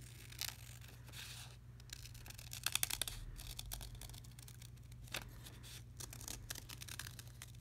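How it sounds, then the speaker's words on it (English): Scissors snipping through a folded cardboard toilet paper roll during a craft project, giving quiet, close crisp cuts in short irregular bursts over a steady low hum. "Now I'm going to grab my scissors again."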